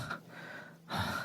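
An injured man pants heavily in a Hindi horror audio drama, two loud ragged breathy gasps close up with a short pause between them, no speech.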